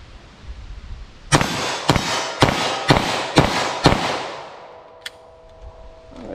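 A 9mm handgun fires six rapid, evenly spaced shots, each a loud sharp crack with a ringing tail, followed by a quieter stretch with one faint click.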